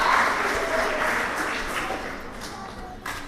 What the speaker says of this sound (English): Can we get a round of applause for our September through May?